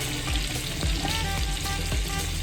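Steak basting in butter with potatoes sizzles steadily in a hot pan, a dense continuous frying hiss broken by soft rhythmic spoon scrapes and splashes, close and fairly loud with no talking.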